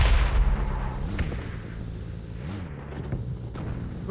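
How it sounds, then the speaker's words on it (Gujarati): A bomb explodes during a video game match: a deep, booming blast rumbles at the start, then fades under a steady droning vehicle engine. "થોડા એક બોમ્બ ફૂટીને રેડ ઝોન જતું રહ્યું"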